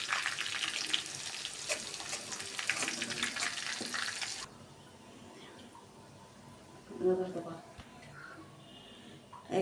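Chopped garlic sizzles in half a cup of oil for tteokbokki, a bright crackling fry that cuts off partway, leaving faint clatter and a low voice.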